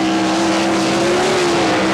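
Wayne Johnson's 1A car and other race cars roar together in a loud, sustained engine drone at a Wichita, Kansas dirt-track race, the pitch rising slightly as the field surges forward.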